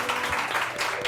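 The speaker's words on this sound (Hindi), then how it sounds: "बहुत सारी तालियां आगा बहिश्ती के लिए" A studio audience on a morning TV show gives a guest a brief burst of applause, a dense, even wash of clapping heard alone.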